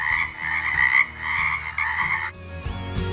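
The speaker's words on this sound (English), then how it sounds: "When I sit on my lily pad, I make a croaking sound." A loud frog croak runs continuously for a children's peek-a-boo animal book sound effect, close and alone, shifting pitch slightly near the end.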